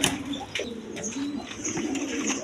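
A pair of pigeons kept for sale coo in a steady run of soft, throaty, rolling calls, close by and fairly loud over a faint room hiss.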